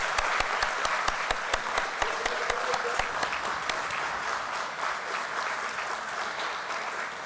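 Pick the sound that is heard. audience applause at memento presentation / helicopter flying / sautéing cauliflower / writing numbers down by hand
audience applause at memento presentation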